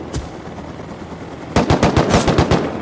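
Gunfire in the video game Rust: one sharp shot, a pause, then a fast burst of roughly eight loud, close automatic shots in quick rhythm.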